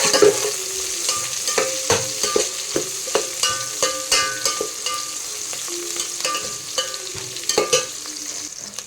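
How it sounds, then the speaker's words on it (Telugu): Chicken pulao being stirred in a pan, a spoon scraping in steady repeated strokes over a constant close sizzle of frying. "బాగా కలుపు."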